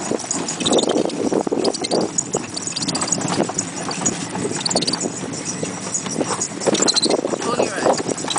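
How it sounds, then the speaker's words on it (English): Pony hooves clip-clop steadily during a ride on Gili Trawangan, close and rhythmic beneath people talking nearby. "And we're back on the pony."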